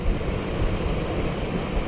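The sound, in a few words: waterfall rushing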